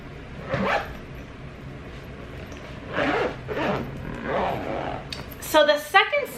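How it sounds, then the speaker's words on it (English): A makeup bag's zippers are pulled closed in a few short rasping runs, ending in a quick burst of zipping near the close, with a faint voice in the background. "Let's zip everything up."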